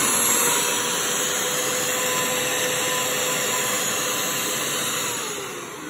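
A Shark CH701 Cyclone PET handheld vacuum running close by, a loud steady whining motor drone with high tonal whistles, easing slightly toward the end, no voices.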